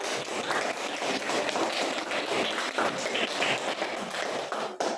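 Students in a classroom clap together in a dense, continuous round of applause lasting several seconds, close and fairly loud, ending abruptly.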